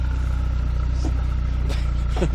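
An E36 BMW engine idles and revs in snow during a failed burnout attempt, a steady low drone holding throughout with a few brief rising pulls, loud and close.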